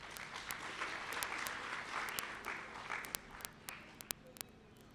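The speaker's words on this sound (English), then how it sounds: "A hand of applause for our Minister." An audience at a community college infrastructure launch applauds the Minister, with quiet, steady clapping that thins out into a few scattered, distinct claps at the end.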